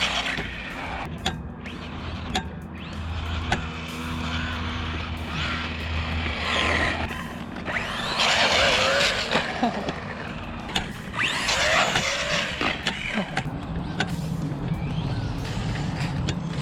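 A Traxxas Rustler 4x4 RC car fitted with a Hoss wheelie bar whines and revs in surging bursts as it drives, with a person's voice exclaiming over the motor noise.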